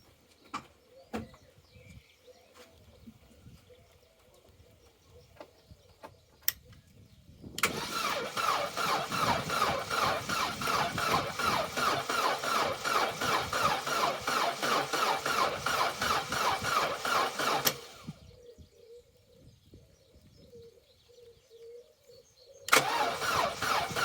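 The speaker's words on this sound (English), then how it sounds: "So let's go for a crank, hoping for something more positive this time." An Opel Corsa B engine cranks in a long continuous burst of about ten seconds without catching, then goes quiet, and a second crank starts at the very end. Scattered small clicks and handling noises come before it, with no talking.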